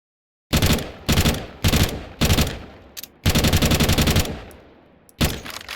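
A FAMAS rifle in Counter-Strike 2 fires loud, close bursts: several short volleys, then a longer rapid stream of shots and a final burst, each crack sharp against silence.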